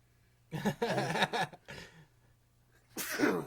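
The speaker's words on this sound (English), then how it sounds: "Excuse my sneezing." A single sharp sneeze bursts out loudly and close by, a short explosive release that stands alone amid nearby talk, with a brief second burst following.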